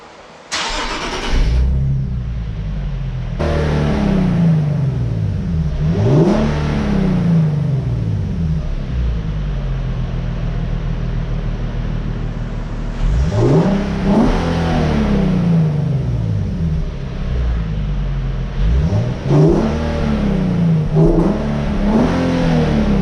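Stock engine of a 2018 Nissan 370Z with about 9,000 miles cranking to life, then settling into a loud, close idle broken by several sharp revs that rise and fall, with no talking.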